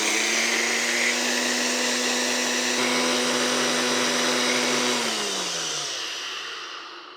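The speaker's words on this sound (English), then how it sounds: "we're just gonna blend it up until smooth" An electric blender whirs loudly and steadily as it purees cottage cheese mug cake batter, holding a constant high-pitched motor whine before spinning down and fading out at the end.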